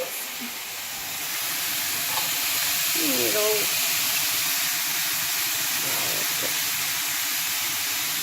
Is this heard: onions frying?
yes